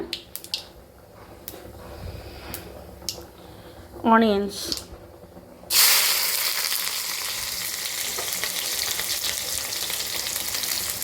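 Mustard seeds spluttering and frying in hot oil for Indian cooking, a sudden loud sizzle that starts partway through and keeps going steadily, after a quieter stretch with a few clicks and a short squeak.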